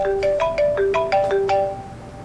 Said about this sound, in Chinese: 你稍等，我接个工作电话。